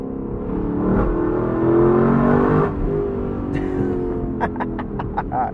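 A Lexus LC500 convertible's V8 engine drones loud and close as it revs up, swelling and then settling, its sound echoing off a bridge; sharp clicking and popping bursts follow near the end.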